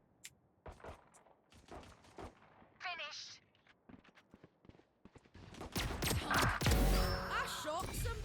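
Valorant match gunfire: several sharp shots scattered among game sound effects, building into a dense, loud burst of firing near the end, with voices talking intermittently throughout.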